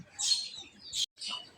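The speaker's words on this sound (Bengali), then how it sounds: "পাখি ডাকতেছে।" Birds call in the morning at a village house in cool weather, with several clear, bright chirps in quick succession and a short gap between them against quiet surroundings.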